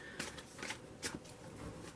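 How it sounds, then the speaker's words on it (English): Tarot cards are shuffled in a few soft, quick riffling bursts, close but quiet, with pauses between them. "I'm just going to keep shuffling for a minute here."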